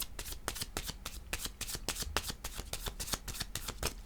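A deck of cards is riffled and shuffled in a steady run of crisp, rapid flutters, close and loud throughout, with no one speaking.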